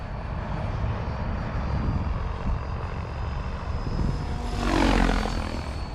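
Freedom Piuma ultralight helicopter flying at low rotor head speed, a loud continuous engine and rotor drone with a swelling whoosh near the end, with no talk.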